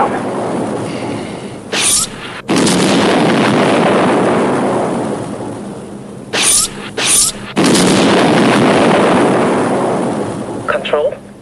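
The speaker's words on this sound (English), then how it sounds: "Control, the UFO has opened fire on us." Sci-fi weapons fire from a UFO hitting interceptor craft: loud booming blasts and rumbling explosions fill the scene, broken by short sharp bursts and brief gaps, with no voices.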